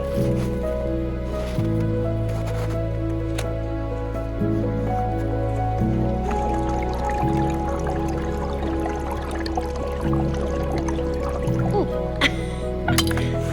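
Water from a stream under ice drips and trickles steadily with small squishy, liquid sounds, close by and continuous, with faint rustling in the background, outdoors in frozen mountains.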